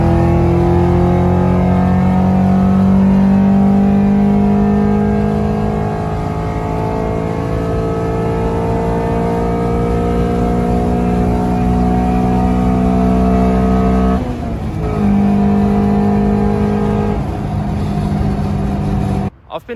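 A Honda Civic with a B20 VTEC engine, ECU Master tuned, pulls hard in fourth gear on a dyno, a loud rising engine whine climbing steadily before the revs drop sharply near the end.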